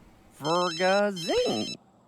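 A telephone rings in The Sims 3, a close, clear electronic ringtone with warbling tones that lasts under two seconds, with no talking over it.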